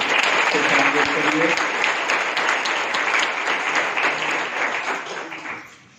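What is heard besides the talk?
audience clapping to welcome a speaker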